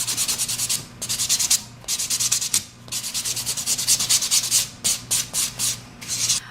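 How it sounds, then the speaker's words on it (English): An acrylic nail is worked with the 180-grit side of a nail buffer, producing quick rhythmic scratchy strokes in short bursts with brief pauses between them, close and fairly loud with no voices. "I'm going to go to your 180 side, gently buff."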